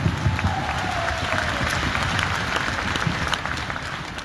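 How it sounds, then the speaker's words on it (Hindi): Audience clapping at a wellness company event, welcoming first-time attendees: dense, steady applause from a large crowd, sustained for several seconds with a faint murmur beneath. "इन सब के लिए एक तालियां बजाओ जो पहली बार आए"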